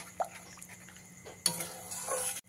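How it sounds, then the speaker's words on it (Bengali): A spoon scrapes and clinks in a bowl while spice paste is stirred with a little water, faint scattered taps followed by a brighter, louder stretch of mixing near the end. "দিয়ে এবারে মশলাটাকে খুব ভালো করে মিশিয়ে নিতে হবে।"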